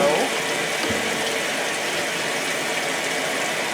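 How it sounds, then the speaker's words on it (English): A washing machine runs its rinse cycle, producing a steady, loud wash of water and churning noise that continues without a break. "Okay, we are now on the rinse cycle"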